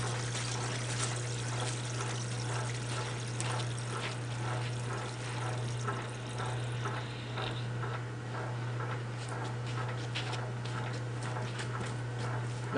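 Water running from a hose into the tub of an old wringer washing machine, a continuous trickling splash under a steady low electrical hum, close and fairly quiet.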